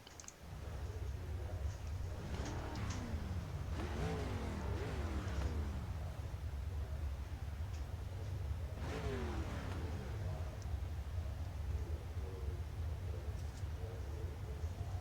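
Limited late model race cars rolling off for a heat at Volusia, engines droning and rising and falling in pitch as they pass, fairly distant and muffled under steady background noise.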